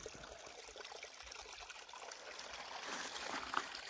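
A mountain creek trickles and babbles softly outdoors, a faint continuous stream of water with small splashes, heard alone without talk.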